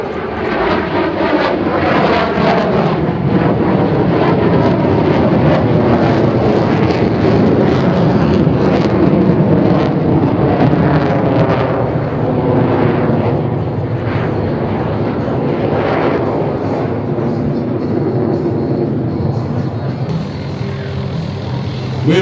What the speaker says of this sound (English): the Sukhoi Su-30 MKM, a multi-role aircraft to deploy to counter airstrikes, counter land and counter sea missions